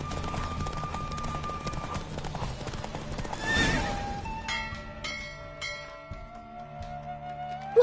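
In The Witcher 3 video game, hooves clip-clop rapidly in a galloping rhythm while a horse neighs loudly midway; bell-like tones and effects ring out toward the end.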